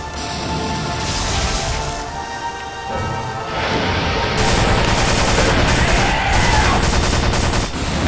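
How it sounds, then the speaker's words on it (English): Machine gun fire in a video game battle, loud sustained bursts of rapid shots with booms and crashes layered through the whole stretch. "I'm gonna get to the machine gun right here."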